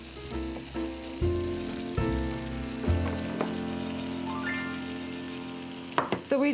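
Tempeh and raw oats fry in oil in a pan, a soft close sizzle alongside occasional clinks and a steady hum, quiet throughout.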